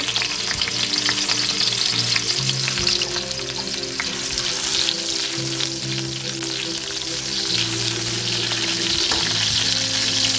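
Garlic and ginger fry in a hot pot for a spicy pineapple shrimp dish with potato and tomato. A loud, close, continuous sizzle goes on throughout, with scraping as the pan is stirred and no talking.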